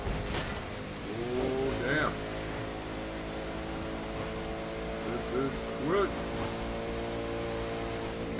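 Hypercar engines drone steadily during a race in The Crew 2, with a sustained harmonic hum and a few brief rising revs, while someone talks over the top.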